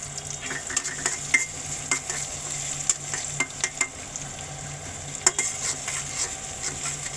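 Spice paste frying in a pan for homemade noodles gives a continuous bright sizzle, with frequent clinks and scrapes of a spatula stirring it close by.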